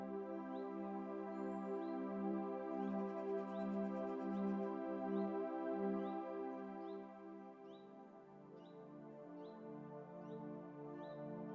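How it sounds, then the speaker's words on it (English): Birds chirp in short repeated calls over a steady, sustained tonal drone, the calls scattered and fairly faint. "You hear the sounds of birds calling out to each other."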